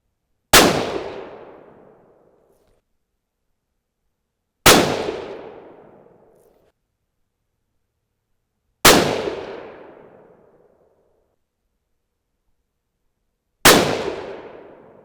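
Four single .22-250 rifle shots loaded with Alliant Reloder TS powder, each a sharp loud crack with a ringing decay, spaced about four seconds apart with silence between.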